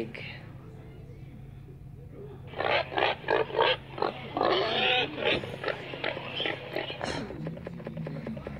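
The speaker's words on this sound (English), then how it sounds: "Pig." A pig grunts and snorts in a rapid series of loud, rough bursts after a quiet start, the choppy grunting running for several seconds before trailing off over a low background hum.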